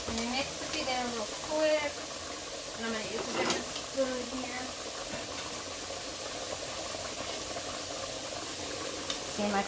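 Meat and onion sizzle in a pan with a steady frying hiss and occasional stirring scrapes, while someone talks over the cooking.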